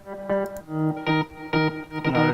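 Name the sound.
synth guitar bass sound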